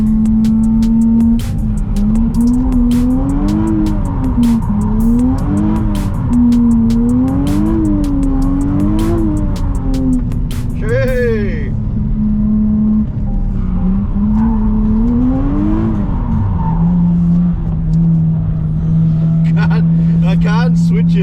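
A new Nissan Z engine revs hard while drifting, loud and close, its tone climbing and falling in repeated waves with sharp throttle blips, ending in a steady drone.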